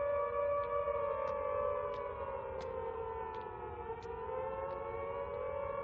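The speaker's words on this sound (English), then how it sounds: "You could hear the sirens echoing off walls." Civil defence air raid sirens sounding over a city during the Blitz: a sustained, wailing multi-tone drone that slowly bends in pitch and echoes off walls, with faint clicks above it.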